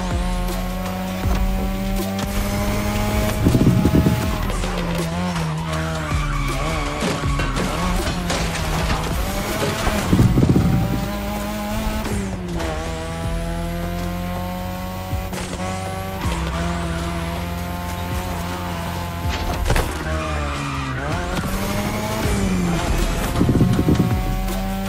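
A car racing along a winding Japanese mountain pass in The Crew Motorfest, its engine revving up and down through repeated gear changes and tire squeals, loud and close throughout with brief bursts of intensity in the corners.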